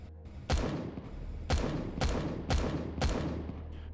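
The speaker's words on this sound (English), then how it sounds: "Okay, our cannons are working," A cannon turret fires in the video game Empyrion Galactic Survival, with five booming shots at uneven intervals over a few seconds. Each blast is punchy and loud with a short echoing tail, and no voices are heard.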